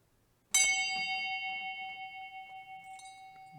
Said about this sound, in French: C'était pas ce son de cloche que je voulais.